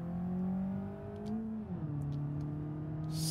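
A Hirochi Mistral car in the BeamNG driving game gives a steady engine drone that rises, then drops in pitch midway as it shifts, with faint tire noise and no talking.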